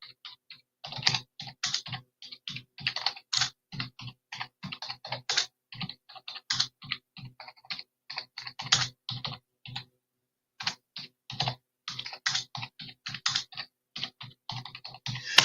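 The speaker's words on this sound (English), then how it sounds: "So I've just put, draw me Keir Starmer in a military bomber jacket with mirrored aviators." Rapid typing on a computer keyboard while entering an AI image prompt, dense bursts of close, crisp key clicks with brief pauses, no voices.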